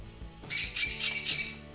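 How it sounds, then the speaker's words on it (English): A pet bird gives loud, harsh squawks at close range in two or three bursts, coming in after a brief quiet start and carrying on to the end with no talking over them. "Yeah, that bird's kind of loud."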